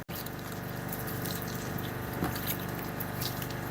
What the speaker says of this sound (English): So it needs wash now in the shower.